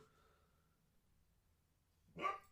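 A dog gives a single short, sharp bark near the end after a near-silent stretch, fairly close but not loud.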